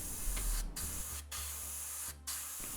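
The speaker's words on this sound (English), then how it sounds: "painting starts with a good layer of surface primer" An airbrush sprays Mr. Surfacer 1500 Black primer onto a 3D printed resin B-Wing model, giving a close, steady hiss broken by three brief pauses, with no talking.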